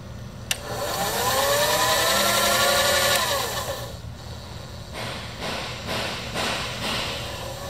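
A Bridgeport 1 HP 9 x 42 inch vertical mill with power feed runs its table in rapid traverse left and right, a loud close motor whine rising and sweeping in pitch, then dropping into a rougher pulsing drone.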